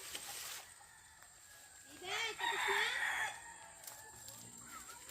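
A rooster crows in a rural yard, one clear cock-a-doodle-doo in the middle, with chickens clucking faintly around it and low background noise before and after.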